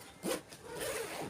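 A zipper on a handmade cloth handbag slides open or shut in two quick soft rasping pulls, close and quiet, with no voices.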